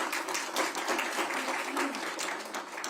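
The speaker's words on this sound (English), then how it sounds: "If we can give them all and give yourselves a round of applause" Applause from a luncheon audience honoring award recipients, steady, full clapping from a sizable crowd throughout, with no break.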